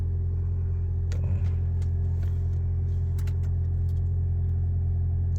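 A hybrid car engine idles in a steady, even hum, with the constant whir of an air-conditioning compressor and blower and a few light clicks on top.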